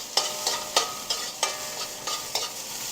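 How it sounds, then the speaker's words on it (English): Onion and garlic sauté in a pan with a steady hiss, broken by regular scraping strokes of a spatula every fraction of a second. "So, I'm going to let this saute for just a second."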